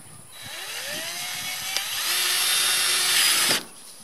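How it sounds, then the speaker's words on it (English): A power drill drives a screw through sheet metal roofing on a horse barn, its whine rising and holding steady for about three seconds before cutting off abruptly, loud and close. "Then I can take my drill"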